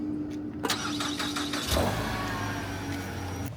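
A car engine is started by remote start: a soft click and brief bustle, then the engine cranks and catches, settling into a steady near idle hum.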